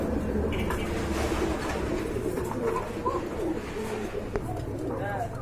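Large caged pigeons, a breeding collection, coo repeatedly at close range under a steady background murmur, with a voice talking at times.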